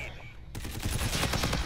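Rapid automatic gunfire from a weapon in Call of Duty: Infinite Warfare, starting abruptly after a quiet moment and continuing as a dense, loud burst of shots with other battle sounds mixed in.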